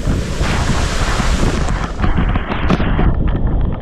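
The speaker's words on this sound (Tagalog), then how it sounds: "Lakas ng hangin, oh." Strong wind buffeting an outdoor microphone during a storm, a steady loud roar with gusty rumble throughout, no voices.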